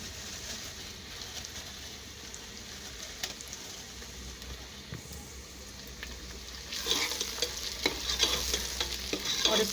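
Whole garam masala, including cinnamon pieces and cloves, frying in oil in a cooking pot for a tripe curry: a soft steady sizzle that grows louder and busier near the end as stirring scrapes begin.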